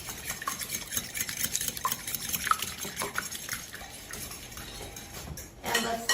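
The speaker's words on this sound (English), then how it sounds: "And now I'm going to whisk the eggs." Two eggs are whisked in a bowl for a pumpkin dump cake, giving a close, continuous rapid clatter and swish of the whisk against the bowl, with a louder knock near the end and no talk.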